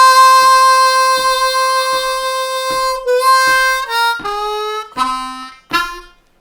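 A Bb harmonica plays a long held 4-draw note that scoops up in pitch and wavers with vibrato, followed by several shorter bent notes, loud and close with no talking.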